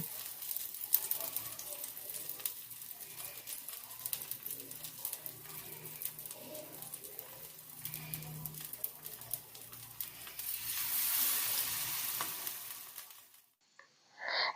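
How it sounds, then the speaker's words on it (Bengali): Cabbage egg rolls fry in oil over a medium-low flame, giving a steady, soft sizzle that swells slightly toward the end before cutting off abruptly. "গ্যাসের ফ্লেমটা মিডিয়াম লোতে রেখে রোলগুলো ভেজে নিতে হবে"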